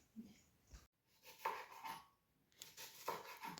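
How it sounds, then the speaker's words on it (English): Knife chopping onion and tomatoes on a board in a home kitchen, with irregular light knocks and scrapes that come and go and a short pause near the start; no speech. "Is cutting the onion, the tomatoes."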